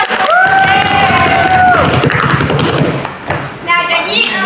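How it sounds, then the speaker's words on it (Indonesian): Pupils in a classroom clap together, a quick run of tapping claps mixed with excited shouts, whoops and a high voice, close and lively. "tepuk tangan dulu dong"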